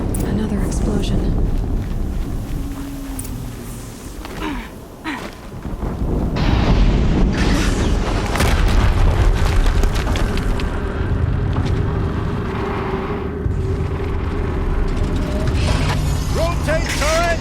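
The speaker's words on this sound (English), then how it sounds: "Another explosion." Explosions in the video game Horizon Zero Dawn, a dense roaring wash of booms and rumbling debris that runs loud and continuous throughout, with mechanical clatter and short game voice lines mixed in.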